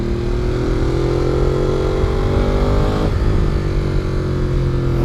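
A 2014 Ducati Monster 821 motorcycle revving through its stock exhaust, a loud, close, steady engine note that climbs in pitch and then drops back partway through.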